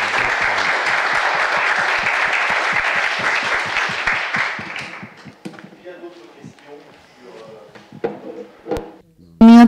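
Loud, dense applause from a conference audience for about five seconds, then thinning into scattered claps and a few knocks before a sharp sound at the end.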